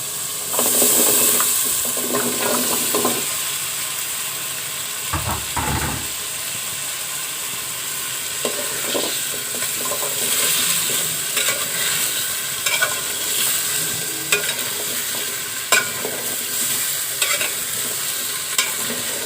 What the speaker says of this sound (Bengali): আমি এখন কচুগুলো দিয়ে দিব।